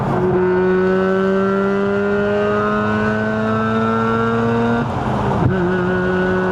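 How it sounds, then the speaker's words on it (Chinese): A Mazda RX-8 with a rotary engine and six-speed manual revs while driving, its smooth buzzing tone climbing steadily through the gear from inside the cabin, then briefly dropping at a shift before pulling again. "原来转子引擎的声音就是这么独特哈！"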